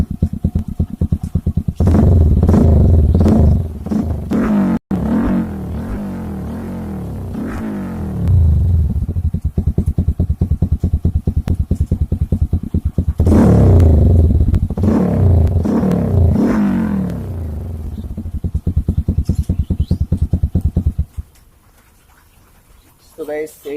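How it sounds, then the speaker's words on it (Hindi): TVS Apache 200 motorcycle with a modified aftermarket exhaust, revved repeatedly at close range: loud, throaty bursts that rise and fall in waves, with crackling between blips before settling back to idle. "तो आइए सुनते हैं इसका जो एग्जॉस्ट का नोट।"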